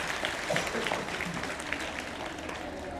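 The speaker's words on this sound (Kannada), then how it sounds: "ಹೊಡಿರಿ ಒಂದ್ಸರಿ ಚಪ್ಪಾಳೆ, ನೋಡೋಣ ಹೆಂಗ್ ಹೊಡಿತೈತಿ." An audience at a Kannada spiritual discourse claps together on request, a fairly soft, steady patter of many hands heard from a distance for a few seconds.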